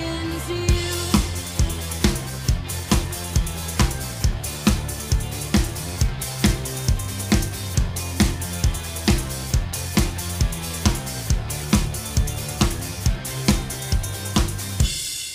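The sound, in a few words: drum beat with hi-hat, snare, tambourine and four-on-the-floor bass drum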